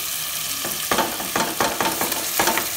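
Marinated chicken pieces frying in a curry pan with tomato and masala give a steady, loud sizzle, broken by repeated scraping stirs, and nobody speaks.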